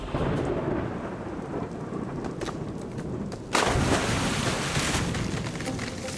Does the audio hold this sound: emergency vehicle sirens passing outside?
no